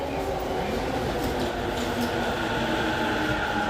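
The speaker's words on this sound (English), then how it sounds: "let's do a quick train ride" Train riding an overground line in Tokyo between Shinjuku and Nakano, a steady close rumble and hum of the carriage in motion, continuous and fairly loud with no talking.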